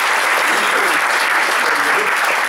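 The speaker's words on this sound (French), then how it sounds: "Je vous propose qu'on s'applaudisse d'ailleurs, tous ensemble." A large audience claps together in sustained applause, a dense, steady wash of many hands that stays loud and even throughout with no gaps.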